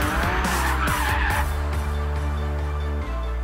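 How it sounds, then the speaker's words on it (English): Car tires screech continuously as the car spins donuts on a racetrack, a loud, sustained squeal layered over a roaring engine, close and unbroken, easing slightly near the end. "we were able to follow the car 360 degrees as it's doing donuts around us"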